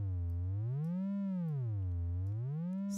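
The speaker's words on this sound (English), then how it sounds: "I'm going to sculpt the sound some more now by adding a state variable filter, and that filter is going to shape our sound." A synthesizer pad built in Reaktor and shaped by a state variable filter sings as a sustained tone that slowly swoops up and down in pitch like a siren, with rich harmonics, steady and alone.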